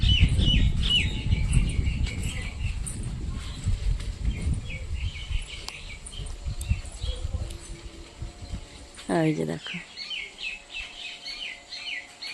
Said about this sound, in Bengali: পাখিদের গান শুনতে পারছো তোমরা